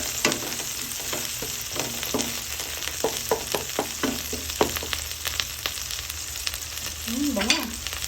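Chicken sautéing in a pan for a lemongrass chicken curry, giving a steady close sizzle broken by repeated stirring scrapes and clacks through the whole stretch, with no talking.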